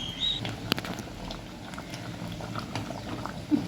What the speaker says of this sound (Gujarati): દાળ પણ ગરમ થઈ ગઈ છે ઉકળી ગઈ છે